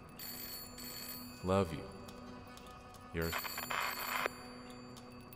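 An old telephone in the horror game Layers of Fear rings in two bright, metallic bursts a couple of seconds apart, fairly close, over a low room hum, with a short spoken line between the rings.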